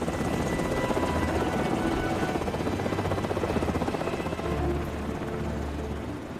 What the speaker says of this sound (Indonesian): Setelah helikopter kembali mendarat,